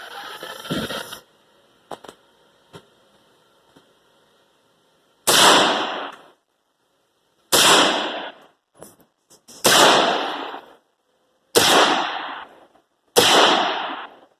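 Sharp single gunshots crack out one at a time, five evenly spaced loud reports, each with a short decaying tail, separated by near-silence with a few faint clicks of handling between them.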